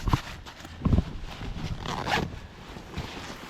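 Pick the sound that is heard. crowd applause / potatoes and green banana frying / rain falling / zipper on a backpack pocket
zipper on a backpack pocket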